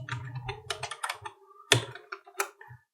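Computer keyboard typing while entering text in an Excel spreadsheet, close-up bursts of crisp key clicks in short irregular runs with brief pauses and one louder thunk of a key.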